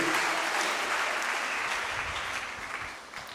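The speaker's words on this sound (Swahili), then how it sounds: "Pigie tena Bwana makofi, haleluya." A church congregation applauds steadily during a sermon, a dense wash of many hands clapping at once that holds for a few seconds and fades slightly toward the end.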